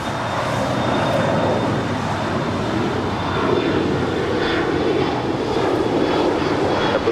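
A jet airliner takes off from runway 25 right at Los Angeles LAX, its engines roaring loud and steady with a faint high whine. The rumble swells slightly midway and carries on without voices.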